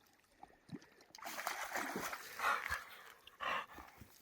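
A dog splashes through water in a forest setting, stirring up bursts of spray and sloshing, close and moderately loud, with a couple of stronger surges near the end.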